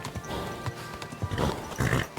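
A horse in the video game Kingdom Come: Deliverance II clops its hooves in uneven bursts and gives a short whinny, fairly close and loud.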